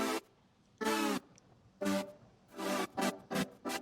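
A bright, buzzy Arturia MiniFreak saw synth tone plays in short repeated bursts, the later notes choppier and quicker, with a gritty, effected edge throughout.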